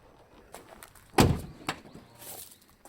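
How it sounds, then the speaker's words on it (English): Easy closing door of a 2010 Nissan Elgrand 3.5 shutting with one firm, solid thunk, followed by a few softer clicks and light handling sounds close by. "Easy closing door."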